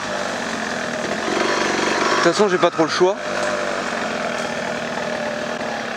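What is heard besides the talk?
DTLC 125cc motorcycle engine running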